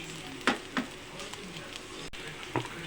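Vegetables frying with bagoong alamang (shrimp paste) in a pan for a simple home dinner: a faint, steady sizzle with a few sharp stirring clicks, heard close and quiet.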